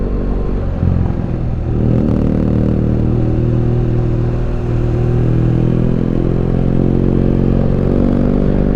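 A BMW GS motorcycle with its exhaust dB killer baffle removed runs loud and close, rising to around 4,000 RPM then holding near 3,000 with a deep, throaty, continuous drone and no talking.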